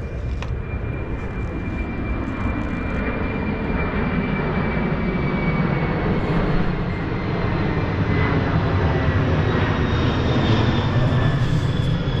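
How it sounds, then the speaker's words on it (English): Aircraft flying overhead near an active airport on a former Air Force base, a steady loud engine roar that holds for the whole stretch with no speech. "Planes flying overhead all day."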